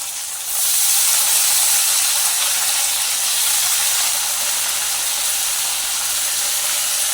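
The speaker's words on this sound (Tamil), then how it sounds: "சரி அடுத்ததாக கத்திரிக்காயை போடுறோம்." Eggplant (brinjal) pieces hit a hot pan and fry with a loud, steady sizzle that starts abruptly and holds evenly throughout.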